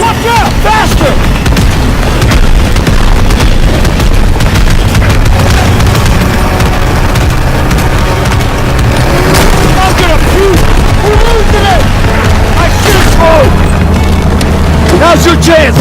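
Dense, loud gunfire and booming explosions from Call of Duty WWII, a continuous barrage of shots and blasts over rumbling, with shouted voices breaking through the din.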